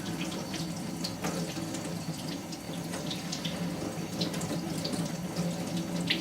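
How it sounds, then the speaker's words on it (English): Tap water running steadily into a sink while a makeup brush is rinsed in the hand; a continuous, fairly loud rushing splash with small shifting splatters as the brush moves through the stream. "I will come over to the water, turn it up a bit, and start rinsing my brush in my hand as well"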